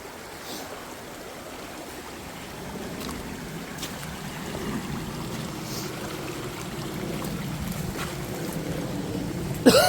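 Footsteps wade through shallow water outdoors, making a continuous sloshing and trickling wash that grows gradually louder. No one speaks.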